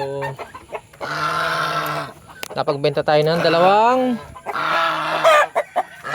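Heritage chickens cluck and squawk loudly nearby in repeated drawn-out calls, with a person speaking briefly among them.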